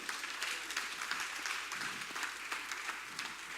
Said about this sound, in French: Est-ce qu'on peut acclamer très très fort le Seigneur?